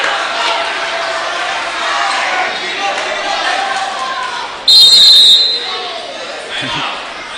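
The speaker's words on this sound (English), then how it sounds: "It's always amusing to hear just the random calls yelled out by the crowd." High school boys' basketball game crowd in a gym: a steady roar of spectators yelling and cheering throughout, with a sharp whistle blast in the middle and a commentator talking over the noise.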